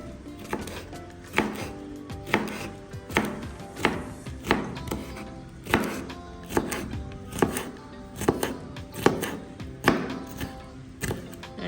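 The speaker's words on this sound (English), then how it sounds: "we will cut up the okra there now" Okra being cut with a knife on a board at a home kitchen, about a dozen crisp chops landing in an uneven rhythm, close and clear with no talking.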